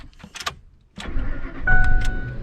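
An old truck engine starts: a few brief cranking bursts, a short pause, then the motor catches and settles into a loud, rough, rumbling idle close by.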